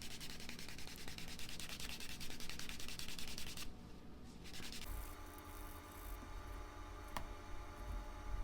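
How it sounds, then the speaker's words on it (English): A wooden slicker rubs briskly along the edge of a small leather card wallet, a close, dry, rapid scraping that runs for several seconds before pausing and shifting to lighter friction. "I will kick over to my either burnishing slick, wood slicker, or whatever you want to call it"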